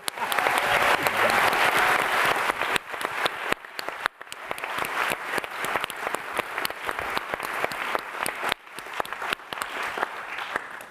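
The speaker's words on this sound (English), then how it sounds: "Now we're going to clap." A hall audience at a public dialogue event applauds steadily, a dense wash of many hands clapping that starts loud, then thins into scattered claps and tapers off over about ten seconds.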